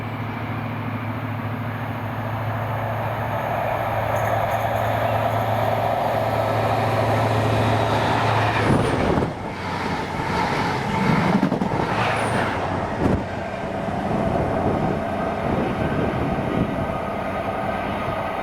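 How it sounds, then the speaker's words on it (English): ScotRail service from Inverness to Edinburgh with two locomotives, 43026 and 43144, passes through South Gyle station: a sustained loud engine roar and rumble with rattling and clattering bursts midway, heard alone without talk. "the 1618 ScotRail service to Edinburgh from Inverness"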